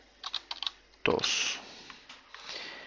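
Keys clatter on a computer keyboard in a quick burst of light, close taps, followed by a louder sustained rustle and faint further clicks as someone types text while working in Photoshop.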